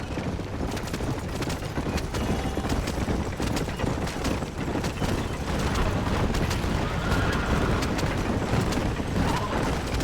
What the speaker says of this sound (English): Why does the horses run like that?